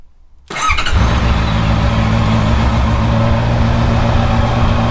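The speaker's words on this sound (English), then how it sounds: "so I'll power the engine up just now" After a brief quiet moment, a motorcycle engine cranks and catches, then settles into a steady, close idle that runs on without pause.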